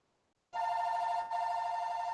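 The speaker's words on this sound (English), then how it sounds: "Well, my phone's ringing here." A telephone bell rings loudly and steadily, starting abruptly after a moment of near silence and continuing with a brief dip, close and alone.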